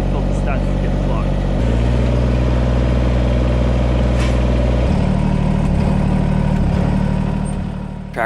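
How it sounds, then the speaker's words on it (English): A tractor engine idles roughly and nearly stalls, a loud, close, low drone whose pitch shifts unevenly in steps, with someone talking over it. "Tractor's idling really rough. It's almost like it wants to stall out"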